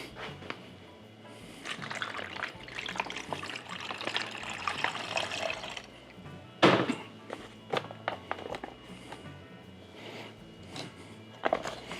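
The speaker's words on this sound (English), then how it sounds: "I'm just going to go ahead and put the water in it" Water is poured through a white funnel into a Pinter brewing keg, a gurgling trickle that comes in uneven spurts with occasional hollow thunks and splashes, and quiet pauses between pours.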